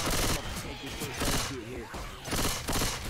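Submachine gun bursts in Left 4 Dead 2, loud and close, with rapid repeated shots in several short clusters and game noise in the brief gaps between them.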